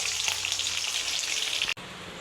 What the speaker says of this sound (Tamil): எண்ணெயில் போட்டு பொரிக்கும் போது கொஞ்சம் கேர்ஃபுல்லாக செய்யுங்க எண்ணெய் வந்து மேலே தரிக்கும்